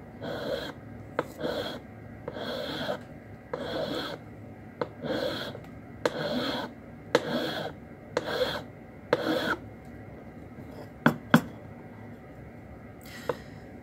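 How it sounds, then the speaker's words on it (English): A hand file rasps across a brass pyramid workpiece in steady, evenly spaced strokes, about a dozen rhythmic passes, close and moderately loud, followed by a few sharp metallic taps near the end. "So keep filing, rotate your work, apply consistent pressure, and you see that you develop some kind of rhythm after a while"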